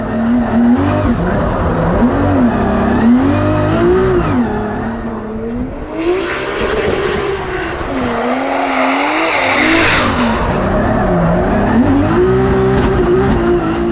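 A Formula Drift car is driven hard around a tight course, its engine revving and wavering continuously while the tires squeal and skid, loud and close throughout.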